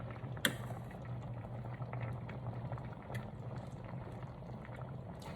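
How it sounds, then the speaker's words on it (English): A plant-based chicken and chickpea fettuccine sauce simmers quietly in a pot, giving a faint, steady bubbling hiss with one sharp clink near the start. "we're gonna let that simmer for a little bit"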